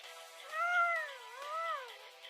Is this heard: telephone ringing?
no